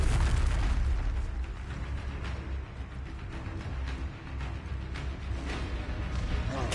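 In Hogwarts Legacy, a Confringo spell blows up with a deep, rumbling boom that fills the whole moment, loud and close, over continuous combat noise from the game.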